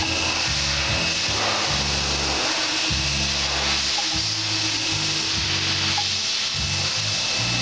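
A CNC machine spindle runs with a continuous high whine and hiss, while rhythmic low grinding pulses come and go beneath it, loud and close throughout.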